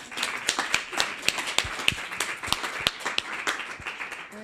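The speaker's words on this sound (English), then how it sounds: "I think they deserve a warm applause from us." A small workshop audience applauds after case presentations, a sparse patter of individual claps, moderately loud and steady, with no talk over it.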